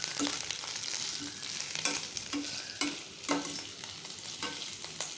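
Sliced bitter gourd fries in a pan with a constant sizzle while a utensil stirs it, giving sharp scraping knocks every second or so, fairly close and unaccompanied by talk.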